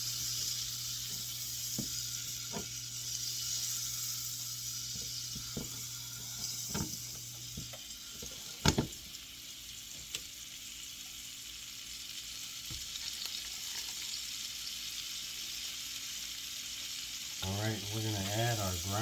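Irish butter and ground beef frying in a pan on the stove, a steady close sizzle running throughout with occasional stirring clicks and scrapes, and a brief burst of activity near the end.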